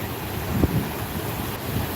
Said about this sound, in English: just kind of just sitting here and listening to the water